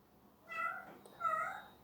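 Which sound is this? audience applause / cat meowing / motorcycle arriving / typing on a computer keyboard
cat meowing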